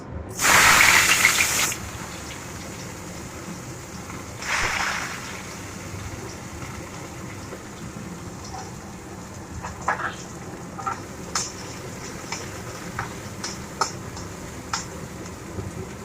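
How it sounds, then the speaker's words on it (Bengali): Onion hits hot oil in a pan with a loud burst of spitting sizzle, then a second flare a few seconds later, settling into a softer steady hiss with scattered small pops. "পেঁয়াজটাকে একটু ভালো করে ভেজে নেবো"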